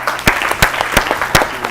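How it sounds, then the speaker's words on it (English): Audience applause at a school quiz competition for a team on the scoreboard: a short burst of scattered clapping with a few loud individual claps standing out over a steady patter. "Please clap for them"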